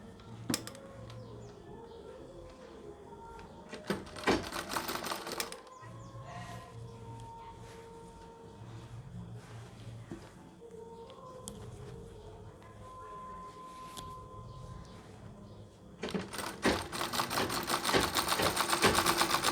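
A sewing machine runs in short, fast bursts while stitching a saree, with a quiet room and faint bird coos between the runs and a longer steady stretch of stitching at the end.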